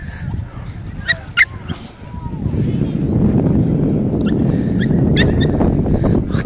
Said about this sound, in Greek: Σκυλί.